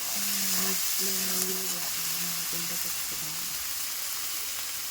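Spice paste for a vegetarian jackfruit curry sizzles and fries steadily in a pan over a high flame, a constant hiss running beneath a voice speaking throughout.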